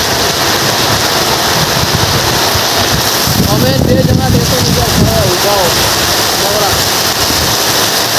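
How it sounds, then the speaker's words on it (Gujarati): A heavy, fast downpour of rain roars as a dense, loud wash with wind buffeting the microphone, and someone speaks briefly partway through. "બહુ વરસાદ બહુ લંબો ચાલુ છે ફાસ્ટ"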